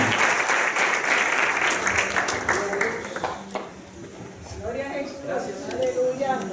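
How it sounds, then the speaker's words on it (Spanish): A church congregation on its feet breaks into loud applause in praise, the clapping dense at first and then thinning as a voice begins speaking over the fading claps. "Todos te dan un fuerte aplauso al Señor por eso."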